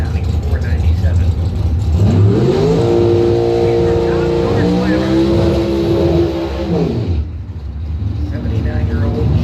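Al Clark's Avenger dragster for Clark Racing revs loudly at a drag race, its engine note climbing and holding in a steady high roar before dropping off, with an announcer talking over it.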